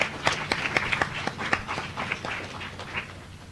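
A small audience at a live-streamed quiz round gives brief, scattered applause, with distinct individual claps standing out unevenly rather than a thick roar, close and moderately loud.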